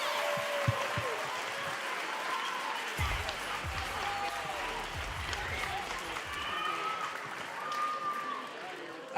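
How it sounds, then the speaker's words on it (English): Applause for the players at the XPL North American Finals, a steady crowd of clapping that holds for several seconds, with some voices and cheering mixed in and a person speaking partway through. "Hey, one last round of applause for all these guys."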